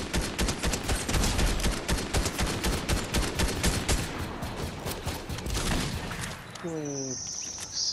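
Rapid gunfire from the Fortnite video game crackles densely through most of the stretch, fading near the end into a brief rising electronic tone.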